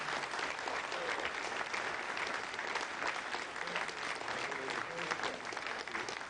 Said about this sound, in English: And you heard the applause.